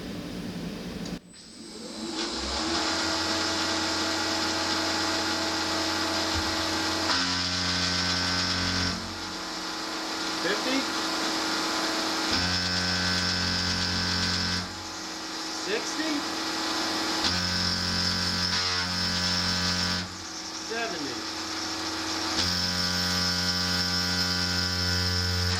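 PM30 milling machine taking a 600-thou-wide, 150-thou-deep cut in metal at 5,400 RPM, a loud steady motor whine and cutting drone that runs continuously with slight shifts in pitch and level.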